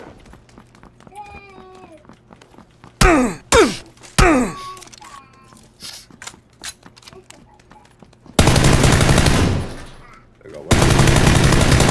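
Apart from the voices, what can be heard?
gunfire in the video game PUBG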